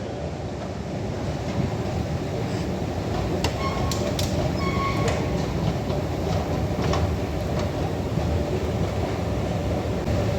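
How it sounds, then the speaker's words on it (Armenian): A train rumbles steadily throughout, a loud continuous roar with occasional faint clicks and squeals over the rails. "Իմ գնացքը կանգնած է։"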